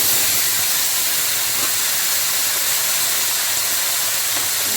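Cut taro hits softened frying onions in a pan, giving a loud, dense, unbroken sizzling hiss that stays level throughout, close and with no voices.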